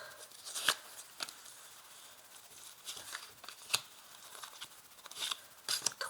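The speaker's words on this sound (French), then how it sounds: "je vais maintenant placer 5 cartes" Tarot cards set down one by one on a table in a quiet room, giving a handful of soft, crisp slaps and brushes against low background hiss.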